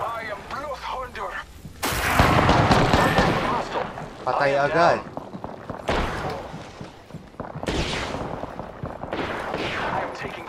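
Loud bursts of gunfire in Apex Legends, several sharp volleys and impacts spread across the stretch with pauses between, while someone talks over the shooting.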